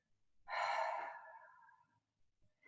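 A long, breathy exhale during a runner's stretching exercise, close and audible for over a second, then fading out, followed by faint quiet movement.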